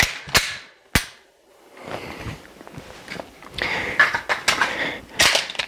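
Pistol emergency reloads drilled with a Rogers tap rack training aid in the magazines: sharp metallic clacks and snaps of slide and magazine handling, several close loud hits with rustling and shuffling between them.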